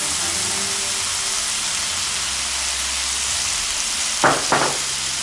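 Food sizzles in hot sesame oil with a constant hissing crackle, broken near the end by two short scraping clatters of stirring.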